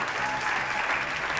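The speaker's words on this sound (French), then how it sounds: "Bonne année, applaudissements, s'il vous plaît." Studio audience applauding on a French late-night TV show at New Year, a steady dense burst of clapping filling the short moment, close and loud.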